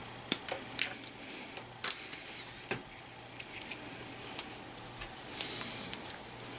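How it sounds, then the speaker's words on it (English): Cutters snipping plastic tie straps while removing the head cable from a ProVis Mark V Plus: a handful of sharp, close clicks and snaps spaced irregularly over a quiet background. "Cut the tie strap from here."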